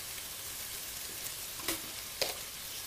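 Onion sautéing with a pinch of salt in a pan, a steady soft sizzle broken by two brief spatula scrapes, heard up close with no speech.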